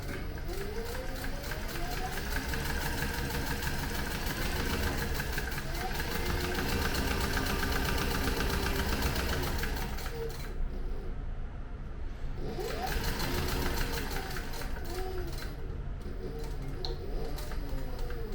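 A sewing machine stitches a leather zippered tote bag, putting in a few back stitches and then running forward in a steady rapid whir that pauses briefly once. A voice is heard speaking over it now and then.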